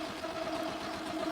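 A diesel engine drives a bangka boat on the water with a steady, droning mechanical hum at a constant pitch, close and continuous with no voices over it.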